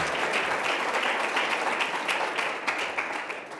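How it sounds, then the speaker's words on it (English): A crowd at a technology launch event applauds in a dense, steady wash of clapping that stays loud throughout and tapers slightly at the end. "Another round of applause."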